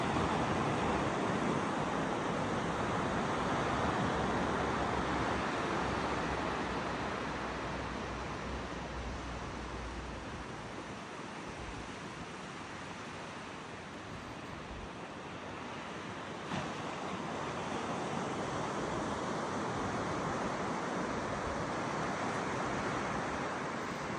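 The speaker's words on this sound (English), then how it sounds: "a beautiful sound of the waves" Ocean waves wash steadily onto the shore at Lorne on the Great Ocean Road, a continuous broad roar with gentle swells in loudness and some wind buffeting, no voices.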